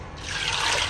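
Water pours into a cooking pot on the stove for split peas, a short, soft splashing trickle heard up close and fairly quiet, with no voices.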